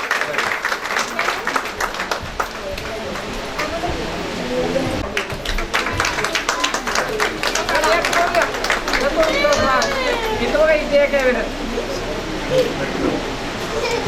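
Audience applause for the Kulkarni family at a Mother's Day ceremony: dense, sustained clapping from a crowd fills the whole stretch, fairly loud and close, with some voices and cheers mixed in toward the end.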